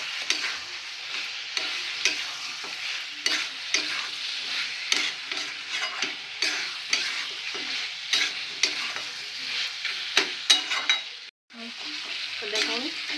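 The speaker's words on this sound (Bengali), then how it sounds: "এটাকে খুব ভালো করে এখন কষিয়ে নেব।" Mughlai chicken with turmeric sizzles steadily in a pan while a spatula scrapes and stirs in repeated close strokes, with a brief pause near the end and no talking.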